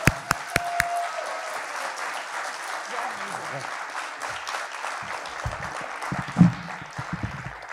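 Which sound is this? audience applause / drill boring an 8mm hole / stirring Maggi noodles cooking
audience applause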